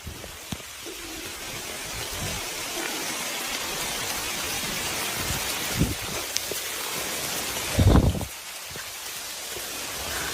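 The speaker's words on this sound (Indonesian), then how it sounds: "Hujan." Steady rain falling outdoors, a dense even hiss throughout with a few louder patters and rustles, moderately loud and close.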